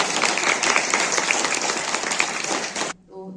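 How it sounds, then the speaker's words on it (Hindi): Loud, dense applause from an audience at a school farewell gathering, sustained clapping that cuts off abruptly near the end, followed by a brief moment of quieter sound. "जोरदार तालियां करने के लिए।"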